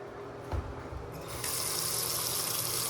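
Water running from a bathroom faucet in a house for sale, a faint trickle that swells into a steady, strong broadband rush after a brief clunk of the handle.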